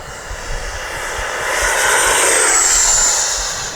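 FMS F-86 80mm Sabre RC electric ducted-fan jet spooling up to full throttle, a loud rising whine that swells and holds as it passes close by.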